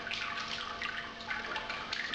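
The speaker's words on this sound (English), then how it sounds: "So I'm just sparging with cold water." Cold sparge water runs and trickles over a grain bed while brewing a Kveik pale ale, a steady close splashing flow that carries on alone without pause.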